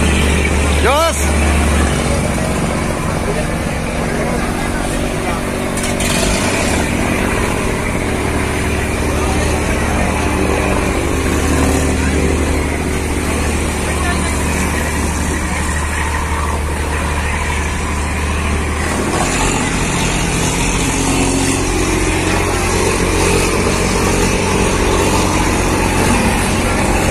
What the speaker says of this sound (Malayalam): ഇതാണ് ബോട്ട് റേസിംഗ് റേസിംഗ് റേസിംഗ്